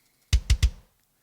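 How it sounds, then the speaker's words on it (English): A Yamaha 22-inch kick drum with a Remo head, played as a preset drum-kit sample, gives three close, punchy low thumps in quick succession. Each has a short bright attack and then fades into silence. "And the kick sounds like this."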